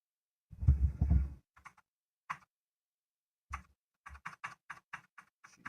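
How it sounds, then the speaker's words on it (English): A cat lands on a computer keyboard and walks across it, giving a heavy thump followed by scattered irregular key clicks and taps, close and fairly quiet, with no talk. "a cat just jumps like right onto the keyboard"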